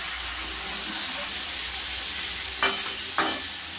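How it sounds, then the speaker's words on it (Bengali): Chicken and onions fry in a pan for a spicy chicken curry, a steady close sizzle and hiss with a couple of sharp scraping stirs of the spoon near the end. "মাংসটা দিয়ে পেঁয়াজ দিয়ে একসাথে একটু ভালো করে কষিয়ে নেব"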